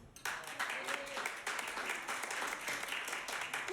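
Audience at the Ruby Rocket comedy show applauding and cheering, bursting in abruptly after a brief pause and continuing as a lively, sustained crowd clap with some voices mixed in.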